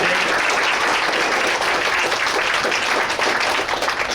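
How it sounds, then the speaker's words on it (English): A crowd at a library science expo gives a sustained round of applause for the judges, dense, steady clapping filling the room for several seconds without pause. "we'll give a little round of applause for our Douglas College judges"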